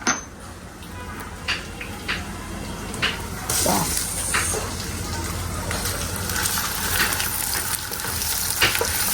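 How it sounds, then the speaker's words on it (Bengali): Ginger frying in a pan while duck is being cooked, a steady broadband sizzle running close and continuous, with faint clinks and stirring scrapes and a louder burst of frying partway through. "আদাটা একটু ভাজা ভাজা হবে"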